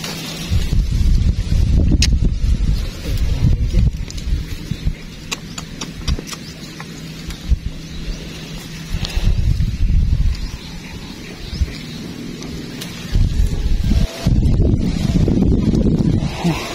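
Strong wind buffets the microphone in loud, uneven gusts, with rustling and low rumbling that rise and fall throughout.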